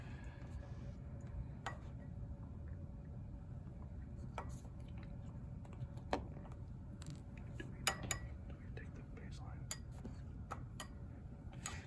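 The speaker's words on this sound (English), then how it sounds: "I'm stirring it gently." Sodium chloride solution being stirred gently in a beaker during a school chemistry conductivity lab: faint, scattered clinks and taps sound at irregular intervals over a steady low room hum.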